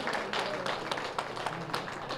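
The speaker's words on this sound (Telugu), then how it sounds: "ఒకసారి ఆయనకి కూడా క్లాప్స్ కొట్టుకుందాం" An audience at an outdoor vegetarian rally event in Vinukonda gives brief, quiet applause, a steady patter of many hands clapping heard from a distance.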